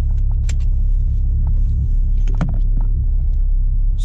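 Turbocharged 9th-generation Honda Civic Si idling at night, a steady close low rumble throughout with a few faint clicks and knocks over it, no talk.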